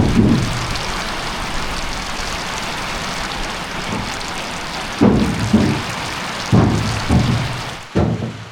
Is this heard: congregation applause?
no